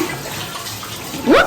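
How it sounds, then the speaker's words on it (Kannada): Tap water runs steadily during washing at home, a soft continuous splash that swells louder near the end. "ನೀರು ಎಷ್ಟು ಹೋಗ್ತಿದೆ? ನೀರು ಸಣ್ಣ ಬಿಟ್ಕೊ, ಸ್ವಲ್ಪ."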